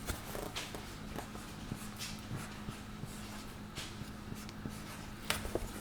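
A pencil or pen scratches numbers onto paper during a first-grade addition lesson, faint short strokes in bursts over a low steady hum, with no talking.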